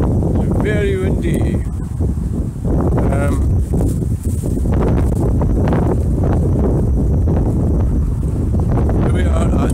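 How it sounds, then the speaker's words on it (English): Loud wind gusting against the microphone at Lower Polmaise Roundabout in Stirling, in rough low rumbles, with brief bursts of speech cutting through now and then. "Very windy."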